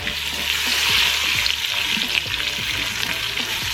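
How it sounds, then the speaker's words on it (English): Minced garlic and onion sautéing in a pressure cooker, making a bright, steady, close sizzle with a few soft stirring knocks and no voices. "we're just going to saute the garlic and the onion until they're nice and softened and fragrant"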